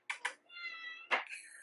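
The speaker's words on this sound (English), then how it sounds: "kitten!" A kitten gives a few short, high meows at close range, two quick chirps followed by a longer drawn-out mew and another cry, with no one talking.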